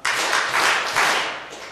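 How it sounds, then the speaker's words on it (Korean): A church congregation at an Easter service clapping in unison three times, each clap a loud full-room burst, evenly spaced and heard alone. "박수 한번 3번만 쳐볼까요?"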